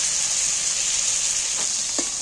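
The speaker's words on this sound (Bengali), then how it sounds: "এই মাছ যত হালকা করে ভাজবে খেতে কিন্তু খুব ভালো হবে" Shrimp frying in a pan, a steady, loud hiss and crackle of hot oil with a couple of soft stirring clinks near the end.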